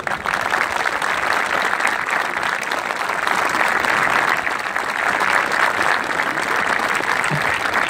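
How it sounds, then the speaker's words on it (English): Loud, sustained applause from a stadium crowd at a football game honoring breast cancer survivors during Breast Cancer Awareness Month, dense clapping and crowd noise filling the whole stretch without a break. "Can we please express our love through applause?"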